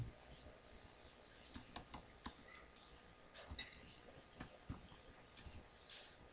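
Computer keyboard typing as an SQL query is written, with irregular bursts of quiet, close key clicks and short pauses between words, alone without talk.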